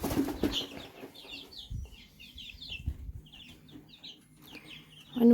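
Chickens on a small poultry farm with a caged coop, giving repeated soft clucks and short bursts of wing flapping at moderate distance, ending with a louder close rustle.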